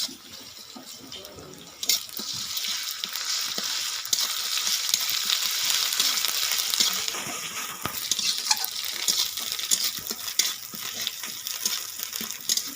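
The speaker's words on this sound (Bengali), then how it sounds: "ভালো করে নাড়িয়ে নিচ্ছি।" Ginger paste fries in a pan while being stirred, giving a continuous hiss with scraping strokes that grows louder after the first couple of seconds and holds steady to the end.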